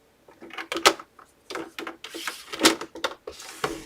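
Paper being scored with a scoring tool for an explosion folio, lines pressed half an inch in from the short side, giving a series of short, dry scraping strokes of uneven strength, close by with no talk.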